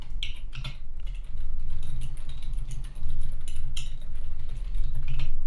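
Rapid clicking keystrokes on a computer keyboard, irregular bursts of typing running continuously and close up with no talk.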